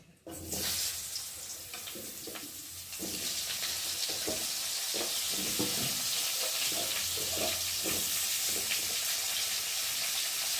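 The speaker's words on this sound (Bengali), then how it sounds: "এখন আমি আলুগুলোকে দিয়ে ভালো করে ভেজে নেব তেলে" Potatoes dropped into oil already sizzling with cumin and chilli seasoning burst into loud, dense hissing frying close by. A few clatters of the pan come first, then the sizzle swells and holds steady, with faint talk underneath.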